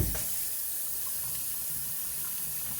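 Water runs steadily from a sink tap while hands are washed, a close, constant hissing splash that lasts under three seconds.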